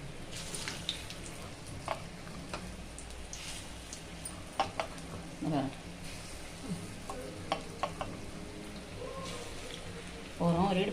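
Bonda batter fries in hot oil with a steady, rain-like sizzle and bubbling, broken by occasional utensil clicks and brief bits of a voice, heard close up.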